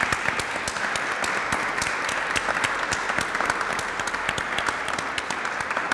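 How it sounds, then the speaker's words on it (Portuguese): A crowd claps throughout at a science talk event for Portugal's Education and Science Month 2017, producing loud, sustained applause with sharp individual claps cutting through the even roar of many hands. "Peço para me juntarem a mim numa salva de palmas."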